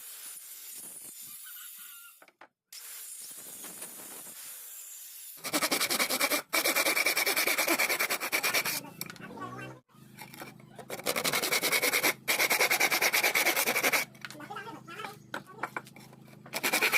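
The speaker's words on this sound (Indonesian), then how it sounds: "Selanjutnya proses pemotongan pada burusnya ya teman-teman" A wooden tenon being cut for a simple wooden table, with bursts of raspy, rubbing strokes that start and stop across the span, loud and close, with brief pauses between cutting passes.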